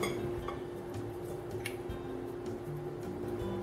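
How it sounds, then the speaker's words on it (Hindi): Mango, pineapple and other fruit pieces mixed in a bowl with a utensil, giving soft, irregular clinks and scrapes against the bowl over a steady low background hum. "अब बोल में सारे फ्रूट मिक्स कर लेते हैं"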